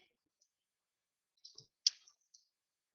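A computer mouse clicks on a confirm button during an online bank payment, giving a few faint, sharp clicks close together in an otherwise quiet room.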